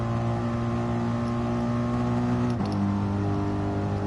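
A damaged racing car engine in an F1 video game drones at a steady, strained pitch, holding a constant hum with a brief dip and shift partway through, loud and alone.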